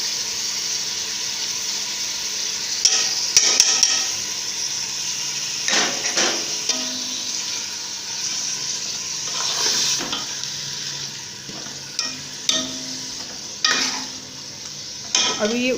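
Ojhari tripe frying in a pan as crushed fresh garlic goes in and gets stirred, giving a steady broad sizzle broken by repeated scraping strokes and clinks of the spoon against the pot, close and continuous with no voices.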